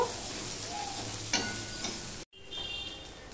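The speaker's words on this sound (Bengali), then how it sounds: "পেঁয়াজটা আমি ভাজা হওয়া পর্যন্ত অপেক্ষা করব।" Onions fry in a pan for a green mango and bata fish dish, giving a steady, soft sizzling hiss with a couple of faint stirring touches and a brief cut partway through.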